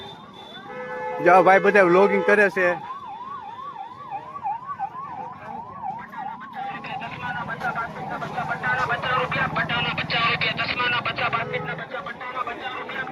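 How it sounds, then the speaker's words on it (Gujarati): An ambulance siren wails loudly near the start at the crowded Junagadh Shivratri fair of 2025, rising and falling in quick cycles. Crowd noise and someone talking follow. "એમ્બ્યુલન્સ આવે"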